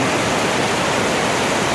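Jatinga river near Haflong rushes in a loud, steady broadband wash of flowing water, close and continuous with no voices.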